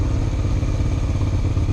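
A motorcycle just back from its first oil change runs with a steady, close, low engine rumble and a throaty mid-range drone, loud and unbroken with no speech.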